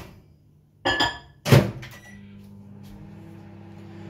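A microwave oven used to heat liquid lure plastic: two solid thunks of the door being handled, then a low steady hum from the running oven.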